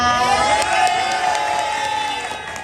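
A crowd at a university club's semester-opening party cheers and whoops loudly and continuously, with a dense wash of shouting voices held steady throughout.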